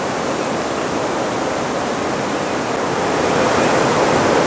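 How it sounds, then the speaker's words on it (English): Rushing flash flood water surges through a floodplain in Vienna, Virginia, a loud, continuous broadband roar that swells slightly toward the end, with no voices. "This entire area is a floodplain, but it shows the intensity of the water"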